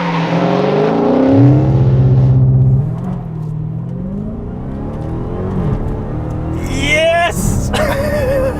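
A 2020 Dodge Charger SRT Hellcat Widebody with launch control and a 6.2-liter supercharged V8 revs loudly up close, its pitch climbing and falling in waves, with voices faintly mixed in.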